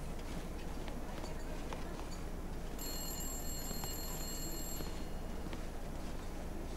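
A telephone rings inside the video game The Long Dark, a bright electronic trill lasting about two seconds over a constant noisy game background.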